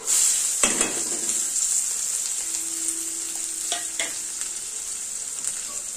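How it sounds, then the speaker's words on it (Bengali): Chopped onions sizzle and crackle steadily in a hot pan, with occasional scraping stirs and light clinks of a utensil against the pan. "পেঁয়াজটাকে একটু ভাজা ভাজা করে নেবো।"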